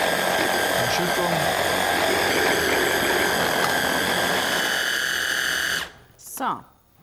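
An electric mixer blending rucola pasta dough, a loud steady motor whine and whir running for about six seconds before cutting off abruptly, close and dominant, followed by a short bump.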